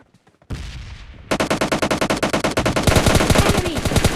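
Rapid automatic gunfire from bots in PUBG Mobile Lite, a short burst, then a pause, then long sustained bursts of shots in quick rhythm, loud and close.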